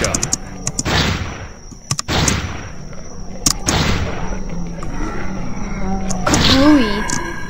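Shotgun blasts boom in a zombie video game, several loud sharp shots spaced about a second apart with decaying tails, mixed with a voice talking over the gunfire.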